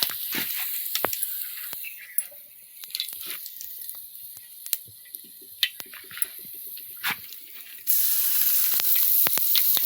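Cumin, mustard seeds and curry leaves fry in hot oil, a close steady sizzle broken by sharp pops and crackles, growing louder and denser near the end.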